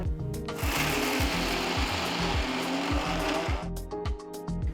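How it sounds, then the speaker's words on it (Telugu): A mixer grinder coarsely grinds spices, cloves and grated coconut without water, its loud motor whirring with rhythmic pulsing surges and a few short on-off bursts at the end. "ముందుగా వీటిని నీళ్లు వేసుకోకుండా కోర్స్గా రుబ్బుకోవాలి"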